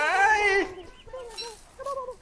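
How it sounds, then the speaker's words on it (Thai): Chickens clucking in the video game Don't Starve Together: a loud squawk opens, then a few shorter rising-and-falling clucks follow, close and clear. "ไก่มันแย่งเบอร์รี"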